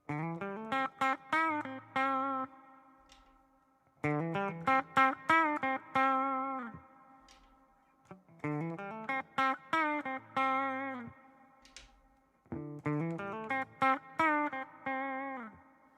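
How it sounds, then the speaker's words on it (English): Electric guitar licks played through a Princeton Reverb amp model, four short bursts of quick picked notes with effects, each phrase ringing out before a brief pause, no talking. "So here's the Princeton reverb going back and forth once again."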